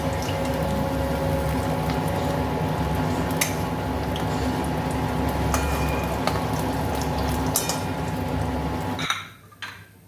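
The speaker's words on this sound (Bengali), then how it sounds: "এঁচড়ের চপগুলো ভেজে নিচ্ছি" Jackfruit chops frying in hot oil make a steady, close, dense sizzle with occasional pops and clinks. The sound cuts away sharply near the end.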